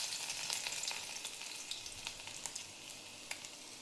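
Garlic fries in hot oil for a Maharashtrian matki usal, giving a steady, close sizzle with scattered sharp crackles and pops throughout, with no voices.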